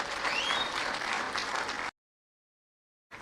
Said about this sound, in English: Another hearty clap for the CEO of GlobalEC.